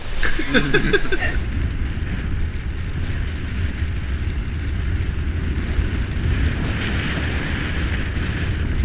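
Strong wind roars across the microphone during an outdoor ride in southern France, a continuous loud buffeting rumble with gusty swells and no speech.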